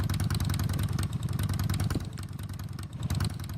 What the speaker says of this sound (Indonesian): Tolong matiin itu motor siapa sih masih nyala,